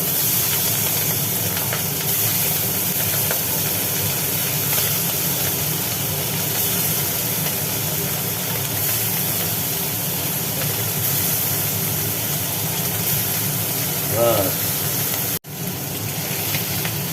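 Tengra fish fry in hot oil in a kadai, giving a steady, dense sizzle and hiss that holds throughout, then briefly cuts out near the end.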